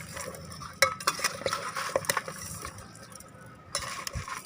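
A spoon stirs shrimp and tilapia in coconut milk, with a series of clinks and scrapes against the pot over a soft simmering hiss and a brief louder clatter near the end; no talking.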